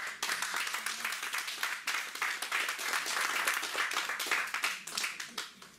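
A church congregation breaks into sustained, dense applause, many hands clapping together in a steady roar that carries on throughout, with some voices faintly audible beneath.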